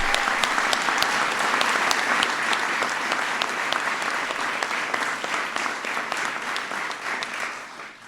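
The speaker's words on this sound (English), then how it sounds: "Please give him a big round of applause." Audience at the White House welcoming the Pittsburgh Penguins breaks into loud, sustained applause, a dense roar of many hands with occasional sharp claps standing out.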